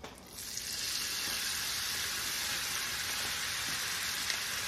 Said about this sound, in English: We're gonna get that nice sizzle sound.